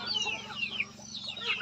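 Wild chickens clucking outdoors, a short run of close, busy, chattering clucks over a low steady background hum.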